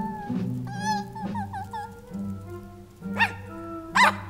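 Several dogs in the video game Minecraft Story Mode bark and yip in short bursts, with two louder, sharper barks near the end, all set over a steady game soundtrack.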